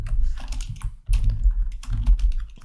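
Close, rapid tapping on a computer keyboard while JavaScript code is typed, in several quick bursts separated by a short pause, with no talking.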